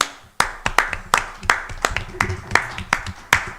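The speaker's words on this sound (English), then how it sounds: "I'm going to give you guys a round of applause" A round of applause breaks out at a town council meeting: sharp, sparse claps from a small group, close and evenly spaced, with no talk over them.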